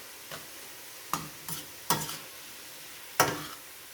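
Vegetables for egg rolls are stir-fried in a very hot pan, with a low sizzle under several distinct scraping stirs at an uneven pace, close up and with no voices.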